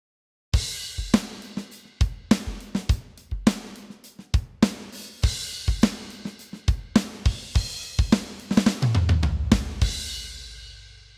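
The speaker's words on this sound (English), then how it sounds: "The drum samples that I'm using today are from the Superior Drummer 3 core library." MIDI-programmed drums on the Superior Drummer 3 Country Rock Punch kit play a steady groove of punchy kick and snare hits under washing cymbals, closing with a rolling low tom fill.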